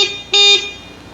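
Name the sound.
motorcycle horn sounding during electrical wiring test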